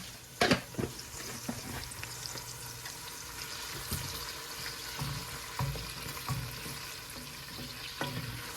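Ghee sizzling in a pot for chicken biryani, a low continuous frying hiss broken by soft clinks and stirring knocks, fairly quiet and with no speech.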